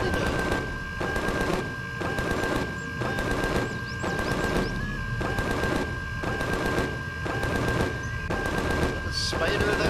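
Rapid automatic gunfire from a turret or weapon shooting upward in the survival game Empyrion – Galactic Survival, loud bursts repeating in a steady rhythm across the whole stretch over a constant high tone and game ambience.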